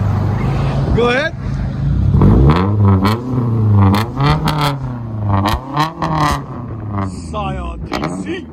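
Scion tC with a 2.5L engine and aftermarket exhaust revving in several rising and falling pulls, loud and close, with voices talking over it.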